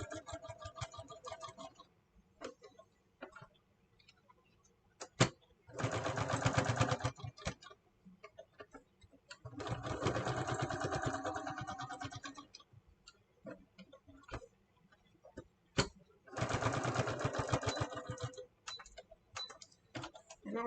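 A sewing machine stitches a tool apron in three separate runs of steady whirring, with clicks and handling taps in the pauses between them.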